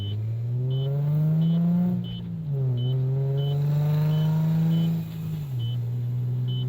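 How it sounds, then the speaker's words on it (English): A Nissan 350Z engine idles low and deep, then revs up and settles twice, its rumbling exhaust note rising and falling, with faint periodic beeps. "let's hear the exhaust also"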